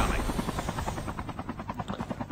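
A helicopter in the video game Call of Duty thumps loudly with a fast, steady rotor chop close by, its pulsing beat filling the mix.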